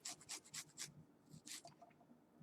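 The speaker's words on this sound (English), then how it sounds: "if you just rub your garlic along the microplane," Garlic clove scraped along a microplane grater over a cutting board, making a series of short, rasping strokes in quick succession, a brief pause, then a few more scrapes, close and clear.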